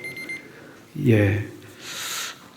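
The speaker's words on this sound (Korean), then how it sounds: "알람이 울렸습니다." An alarm sounds briefly during a Sunday church sermon, a short run of high electronic beeps at the very start, followed by someone speaking over room noise.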